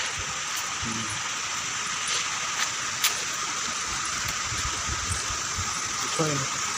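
Broad steady rush of a waterfall at a scenic picnic spot in Kalahandi, a constant roar of falling water with faint voices talking now and then in the background.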